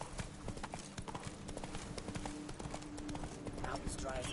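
A horse's hooves clip-clop in a steady galloping rhythm through The Witcher 3: Blood and Wine, continuous and fairly close, with game voices talking over it.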